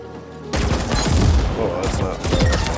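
Gunfire in the video game Ascent, a dense burst of rapid shots that starts abruptly after a quiet moment, loud and close, running continuously with a brief pause before resuming.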